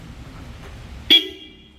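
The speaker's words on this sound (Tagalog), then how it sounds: "Nilagyan natin siya ng supersonic horn, yung malakas na busina." A supersonic air horn fitted to a Toyota Fortuner gives one short, very loud, piercing blast that cuts through a low idling rumble and then fades away.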